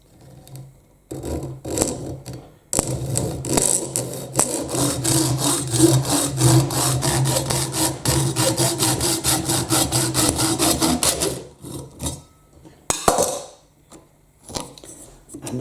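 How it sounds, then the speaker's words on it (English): Hacksaw blade cutting through the plastic body of a Bruder Jeep toy, with steady rapid back-and-forth rasping strokes that fill most of the stretch before stopping into a few softer scrapes and handling noises. "I'm just going to be using this simple hacksaw blade"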